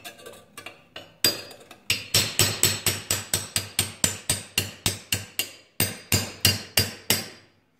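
A steel chisel is struck by a hammer, driving it into the bonded seam of a panel glued with 3M 8115 panel bond: a few tentative taps, then a long, steady run of about twenty sharp, loud metallic blows.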